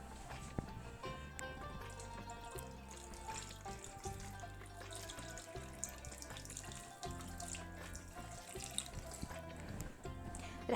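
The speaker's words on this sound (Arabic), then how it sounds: "بعدين رح اضيف عليها المي" Water runs steadily from a tap into a bowl of chicken being soaked in vinegar, a constant splashing flow with small drips throughout.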